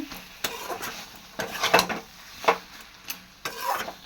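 Curry being stirred in a cooking pot, likely with a rich, thick gravy; several separate scraping and rubbing strokes of a utensil against the pot, close and moderately loud, with quiet gaps between them and no talking.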